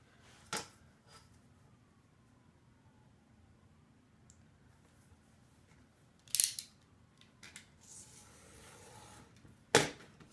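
Paper sheets are cut in half in a quiet room, giving a few sharp, brief cutting snips spaced seconds apart over faint background hiss.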